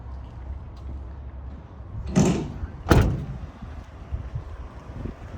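The rear swing doors of an Opel Movano L2H2 van, held open by magnets, make two fairly loud, close clunks less than a second apart over low outdoor background noise.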